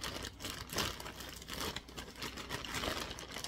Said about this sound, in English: I am having trouble getting in this bag. I guess this packaging is really good